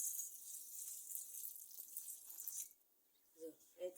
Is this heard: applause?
no